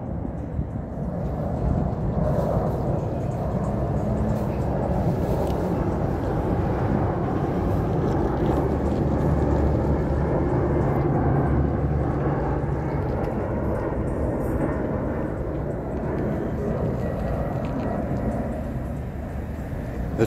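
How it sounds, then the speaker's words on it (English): A fixed-wing airplane passes overhead outdoors, a broad steady roar that holds for about twenty seconds with little change, loud and continuous with no talking. "I love watching planes, especially when they look like this one."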